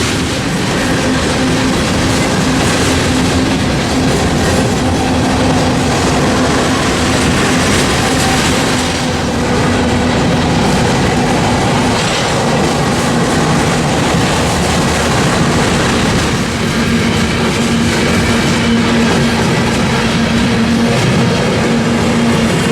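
A Union Pacific SD70MAC diesel locomotive leads an eastbound road local freight between North Platte and Grand Island. It passes close and loud with a continuous heavy rumble, a steady engine drone and wheel noise throughout.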